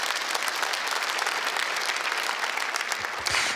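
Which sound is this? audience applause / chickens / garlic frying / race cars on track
audience applause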